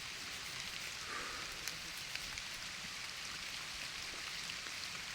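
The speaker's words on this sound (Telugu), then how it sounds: "వర్షం పడుతుంది. యాక్చువల్గా ఇప్పుడు ప్రజెంట్ కొంచెం తగ్గింది వర్షము." Rain falls on a hillside in a tribal village area as a soft, even patter with a few scattered drops standing out. It stays faint and unbroken from start to end with no voices.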